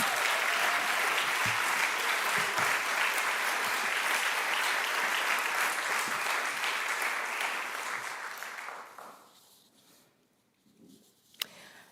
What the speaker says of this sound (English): Please, please give him all his flowers and all of his applause.